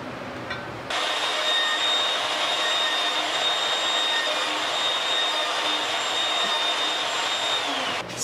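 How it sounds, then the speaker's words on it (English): A router running steadily while cutting slots on a light milling setup with a tall fence, a loud, continuous high whine that holds for several seconds after a sudden start, with no talking. "Slot cutting on a router."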